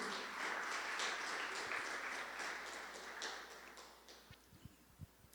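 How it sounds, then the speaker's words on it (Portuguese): A church congregation applauds, a dense, steady wash of clapping that fades over about four seconds and leaves a few scattered claps and knocks at the end. "aplaude Ele em nome de Jesus"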